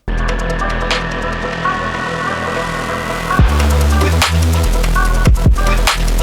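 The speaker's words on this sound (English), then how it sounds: "In this track, I used a Reese for the first drop." A thick, buzzing Reese bass synth drop throbs and wobbles loudly under an electronic beat, with a sweeping tone building before the heavy bass section hits.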